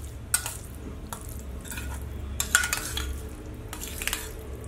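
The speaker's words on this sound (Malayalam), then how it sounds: "നന്നായിട്ടൊന്ന് മിക്സ് ചെയ്ത് കൊടുക്കാം." A spoon stirs a teaspoon of sugar into a homemade drink, giving light, intermittent clinks and scrapes against the glass in a loose rhythm over a low background hum.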